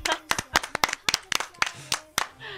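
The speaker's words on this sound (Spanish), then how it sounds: "esto se merece un fuerte aplauso" Sharp, close hand claps in an uneven rhythm from a few people, with a short voice near the end.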